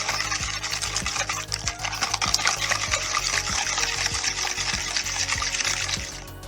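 Coffee cake batter mixed in a bowl, with a brisk run of wet, rhythmic stirring and light clinks of the utensil against the side, close and steady for several seconds before easing off at the end.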